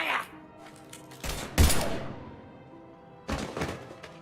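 Gunfire in the sci-fi shooter game Mass Effect 3 comes as a few heavy, booming blasts and thuds with brief rumbling tails, separated by quieter gaps.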